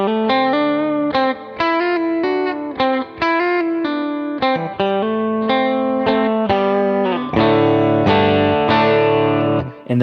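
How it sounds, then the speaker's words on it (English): Electric guitar played through a plate reverb pedal with slight grit, a sequence of picked notes and chords with a smooth lingering tail and a mildly distorted edge, loud and up close, no talking. "Nice little plate reverb. I love the little grittiness I have in there."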